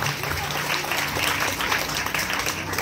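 A church congregation at a revival service gives sustained loud applause, a dense, even wash of clapping from a crowd that lasts the whole time.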